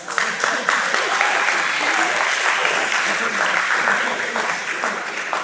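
Audience at a formal debate breaking into loud, sustained applause, many hands clapping densely and close, with scattered voices and murmurs mixed beneath the clapping.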